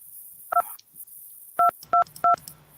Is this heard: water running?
no